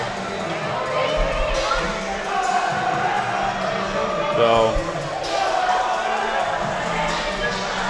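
Crowd murmur and scattered cheering at a volleyball match in a gym, steady background noise with a few louder bursts and thuds, under a commentator's talk.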